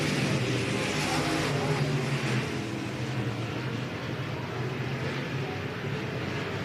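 Race cars roar down the front straightaway in a drag race on opening night, a dense steady engine drone with distant crowd and track ambience under it.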